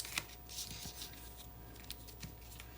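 Backing strips being peeled off quarter-inch double-sided score tape laid in two rows on a paper card, a faint, close, papery crackle with small ripping ticks.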